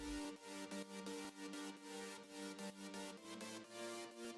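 Synthesizer chord layer in an electronic dance track, sustained chord pulses rhythmically chopped in a quick pumping pattern, faint and unaccompanied by voice.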